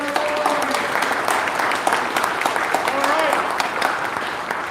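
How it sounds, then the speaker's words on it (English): Steady round of applause from an audience at a college culinary competition, sustained and fairly close, with a few voices and a brief spoken remark over it. "one last round of applause for our competitors"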